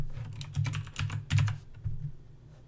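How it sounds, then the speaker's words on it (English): Several quick bursts of clicky keystrokes from a mechanical computer keyboard, close-miked with a low hum beneath, broken by short pauses and with no talk. "Is my keyboard really loud in the mic? I've got a mechanical keyboard."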